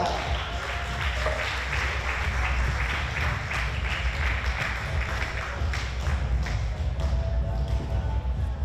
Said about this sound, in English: Please give him another round of applause for Horacio Cifuentes of Argentina.